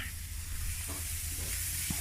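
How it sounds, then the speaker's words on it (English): Pork chops sizzle on a barbecue grill with a soft, steady hiss of frying fat, fairly quiet and close, with a few faint clinks. "You can hear that sizzle."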